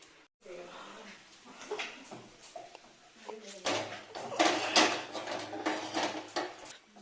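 A small wok set down on a kitchen stove, with a metallic clank and cookware clatter under nearby conversation.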